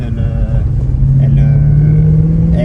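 Mercedes C63 AMG W204 engine revving as it accelerates and cuts out with the driving aids on, a loud steady rumble with rising pitch, heard close from inside the car.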